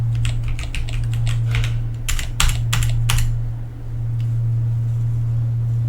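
Bursts of clicking keystrokes on a computer keyboard, typed into a terminal interface in a cryptomining game, come in quick clusters over a steady low hum, close and clear with no talking.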